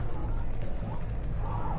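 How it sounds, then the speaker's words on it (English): A steady low mechanical hum from a chairlift's direct drive, the American Eagle lift at Copper Mountain, Colorado, drones throughout, a smooth motor-like rumble with no distinct beats, fairly close and constant. "You can hear the direct drive right now."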